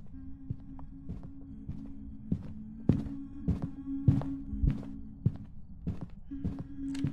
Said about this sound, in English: Those are some really loud footsteps.